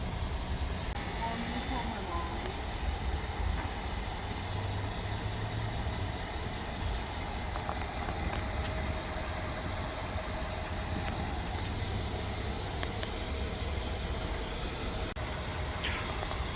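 Airmatic suspension compressor running on a Mercedes-Benz GL X166, a steady low mechanical hum and drone that holds constant throughout, with faint extra noises on top.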